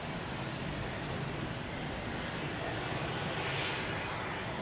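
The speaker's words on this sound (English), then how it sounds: "Airbus A320 on approach, flying for Swiss inbound from Nice in southern France" Swiss Airbus A320 jet airliner on approach to Zurich, inbound from Nice, a faint, distant, steady rumble of engines.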